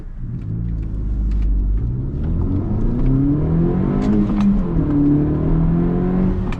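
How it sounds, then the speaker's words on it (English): A turbocharged car on a TSP Stage 1 tune, at about 19 PSI of boost, accelerates through a parking lot. The engine rumbles and rises in pitch through the gears, heard from inside and continuing steadily with no speech. "just from driving through the parking lot and accelerating like that"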